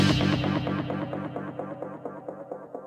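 Hardware music performance frozen on a performance mixer so the whole mix repeats and echoes out, a stuttering loop of tones pulsing steadily while the high end darkens and the level slowly fades.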